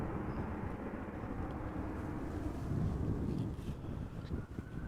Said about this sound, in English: Lining up right now is another Delta Airbus A330-300